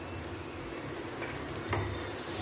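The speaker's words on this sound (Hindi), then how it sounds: "और सभी को भून दे रहे हैं।" Coriander powder and pav bhaji masala frying in a pan as the spiced filling for stuffed eggplant is cooked, giving a steady, close sizzle with no talking.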